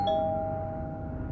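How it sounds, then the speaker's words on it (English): A doorbell rings once with a clear electronic chime, close and bright, its tone ringing out and fading slowly into a low background hum. "I rang the bell,"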